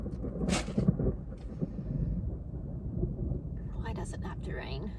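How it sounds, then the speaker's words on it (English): Rain patters steadily on a parked car during a thunderstorm in Sydney, a dense, muffled rumble filling the cabin with a few sharper drops near the start and soft voices faintly underneath. "you're going to hear the raindrops on my car"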